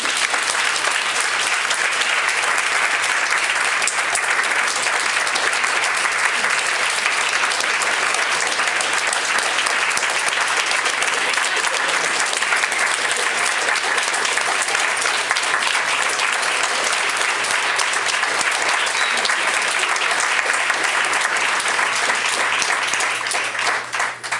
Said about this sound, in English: Give them a round of applause again.